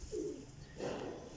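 Two low, soft coos from a golden teddy pigeon, close and faint, the second slightly longer than the first.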